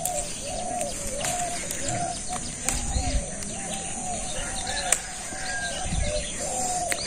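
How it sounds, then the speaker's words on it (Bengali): Birds chirp and pigeons or doves coo through a village morning, repeated calls near and far over a soft background, with a couple of sharp knocks. "মুরগিতে ডাক নইছে"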